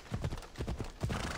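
Horse hooves clip-clop in a steady rhythm as a mount is ridden in the video game Assassin's Creed Odyssey, quiet and alone.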